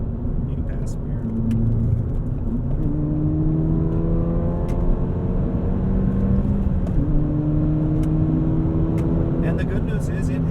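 A 2019 Ford Fiesta ST accelerating hard to pass on the highway, its engine rising steadily in pitch through the gears with a brief shift dip, loud and sustained under road rumble.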